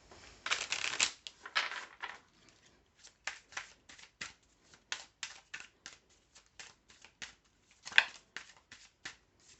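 Oracle-style feeling cards being shuffled by hand, a longer riffle at first followed by many short, crisp snaps of cards in an uneven rhythm, close and quiet, with no talk.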